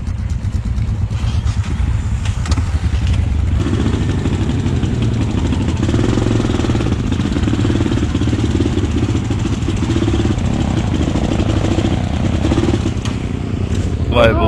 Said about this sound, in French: Eh, monte sur ta moto!